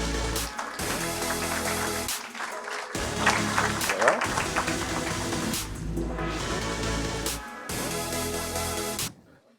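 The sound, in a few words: audience applause for panel guests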